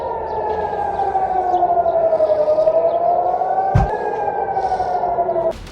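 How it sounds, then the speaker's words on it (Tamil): A loud, steady air raid siren wails, rising and falling slowly in pitch, sustained for several seconds before cutting off, with a brief thump partway through. "அபாய சைரன்கள் ஒலித்தன."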